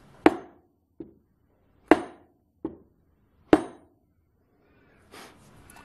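Five sharp metallic hammer blows strike a 13 mm heavy-duty keyless drill chuck, seating it onto its arbor. The blows are close and irregularly spaced and each rings briefly, followed by a soft rustle.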